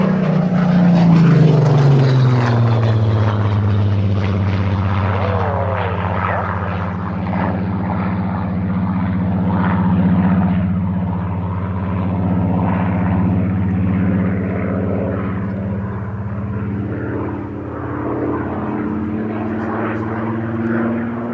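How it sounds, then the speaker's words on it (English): Hurricane and Spitfire propeller fighters drone overhead at a Battle of Britain airfield in Cambridgeshire, a loud, steady piston-engine roar that swells and slowly fades as they pass, with no talking. "watching multiple Hurricanes and Spitfires in Cambridgeshire skies"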